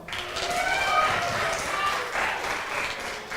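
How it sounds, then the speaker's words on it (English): At a church vacation Bible school magic show, an audience gives a volunteer named Cooper a round of applause. The clapping is steady and somewhat distant and lasts a few seconds, with faint voices underneath. "give Cooper a round of applause"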